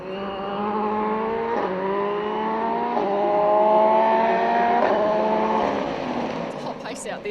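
Rally car driven flat out on a stage of the Otago Rally, its engine loud and close, revving hard and climbing through gears with several quick shifts, a steady high-pitched drone lasting the whole stretch.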